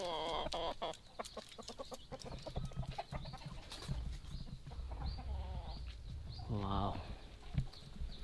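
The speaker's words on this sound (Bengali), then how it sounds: "এই মুরগিগুলো দেখছেন" Chickens cluck and a rooster calls out nearby amid outdoor ambience in an Indonesian village, with a person talking intermittently over the birds.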